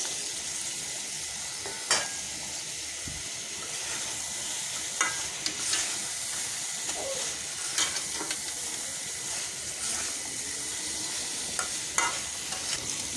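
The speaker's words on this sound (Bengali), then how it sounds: "সম্পূর্ণ মশলাটা কষে আসছে, দিয়ে দিচ্ছি সিদ্ধ করে রাখা কচু।" Boiled taro goes into a spice paste frying in a pan with green and dried chilies, giving a steady sizzle broken by periodic sharp scrapes and knocks of a spoon stirring against the pan, with no talking.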